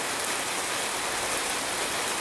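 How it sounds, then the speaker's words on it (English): Steady rain falls outdoors as a continuous broad hiss of drops on surfaces, even and moderately quiet, with no voices over it. "There's the rain."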